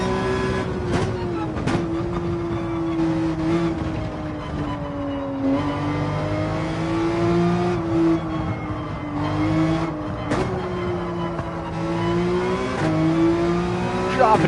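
Race car engine in Gran Turismo 7 at Willow Springs, steady harmonic drone with pitch dips and rises as it downshifts into first and revs back up, loud and continuous throughout.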